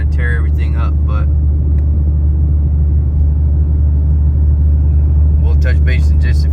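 A modified Ram 2500 Cummins truck tows a massive camper along a bumpy road torn up by sugarcane trucks, its cabin filled with a loud steady low engine drone. Talking is heard near the start and again at the end.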